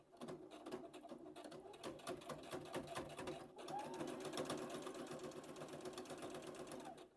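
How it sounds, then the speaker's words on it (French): A sewing machine runs in long steady bursts with a brief pause near the middle, stitching jacket sleeve heads into the armholes, its rapid needle clatter close and continuous. "J'ai terminé de coudre les têtes de manche sur les emmanchures."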